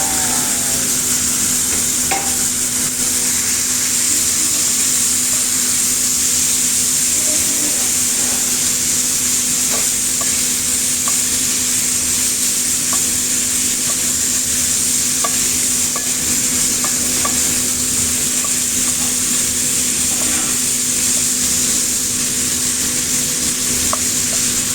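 Beef and carrots stir-fried in a pan, with a steady, loud sizzle and frying hiss throughout, broken by faint scraping stirs, and no talking.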